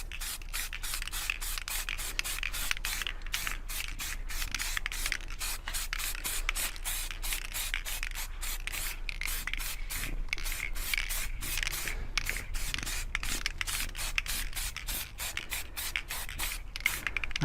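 A spray can lays silver paint onto a car panel in steady hissing bursts with brief pauses, close and continuous throughout.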